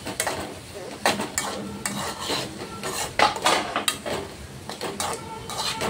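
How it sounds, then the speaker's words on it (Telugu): A spoon scrapes and clanks repeatedly against a steel pan as thick carrot halwa is stirred to keep it from sticking, an irregular rhythm of metallic knocks and drags over a faint cooking hiss. "ఇలా కలుపుతూ ఉండాలండి, లేకపోతే అడుగున పట్టేసిద్ది"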